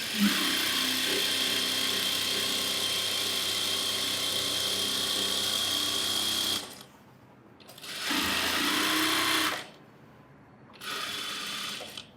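A sewing machine stitches along the edge of a chudithar with a steady close whirring hum, running continuously at first, then in two shorter bursts separated by brief stops.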